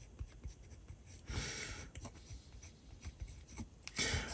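A Moonman fine nib fountain pen scratches softly across Talens sketchbook paper in short intermittent strokes, close and quiet, with a few louder scraping passes.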